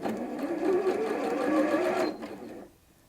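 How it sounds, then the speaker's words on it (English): A Janome M200 QDC sewing machine runs steadily under its start-stop button for about two seconds, a close, even mechanical whir with rapid needle clatter, then stops and the room falls quiet. "I've also got the option on this machine to sew using the start-stop button."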